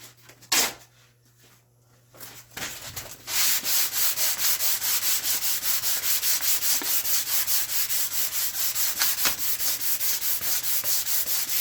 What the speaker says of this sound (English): Grab a sandpaper.